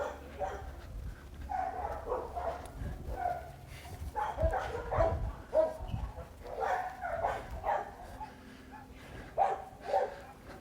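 A puppy barking energetically in a series of sharp, repeated barks and yips with a few whimpers, close and irregular, mixed with faint background movement.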